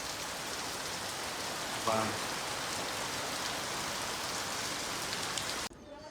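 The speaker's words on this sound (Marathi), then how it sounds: "तेव्हा पावसाची जोरदार हजेरी बघा" Heavy monsoon rain pours steadily in a broad, dense hiss, close and loud throughout, with a brief faint voice partway and the wash dropping away at the very end.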